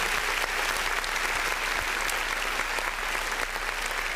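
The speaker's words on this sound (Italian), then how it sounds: "Gliela facciamo un applauso" Dense, sustained applause from a crowd, steady and loud throughout without pause.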